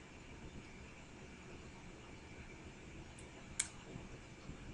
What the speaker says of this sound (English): You click here.